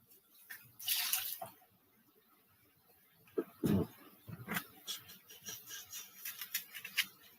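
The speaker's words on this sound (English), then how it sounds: "Then you want to rinse it off again." Food rinsed under a running kitchen tap, with intermittent splashing bursts of water as it is held in and out of the stream, close and moderately loud between quieter gaps.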